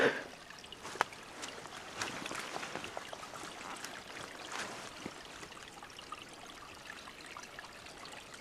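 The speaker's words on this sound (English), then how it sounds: "this little babbling brook" Faint, continuous trickle and burble of a small brook running over rocks in a wooded park, soft and steady with a light hiss and occasional splashy ticks.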